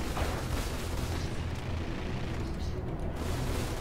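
Spaceship weapons fire in Star Citizen Arena Commander during a Vanduul Swarm fight. Dense, continuous booming blasts fill the whole clip, loud and close, with speech faintly mixed in.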